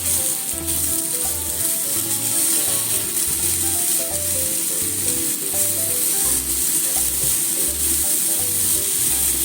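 Eggplant stir-fries in a pan just after sake is poured in for a sesame-flavored dish, giving a loud, continuous sizzle with a steady rhythmic scrape and clatter of stirring throughout.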